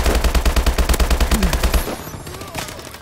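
Rapid automatic gunfire from enemies in Call of Duty: Advanced Warfare, a loud, close, steady burst of shots lasting about two seconds before cutting off into quieter game ambience.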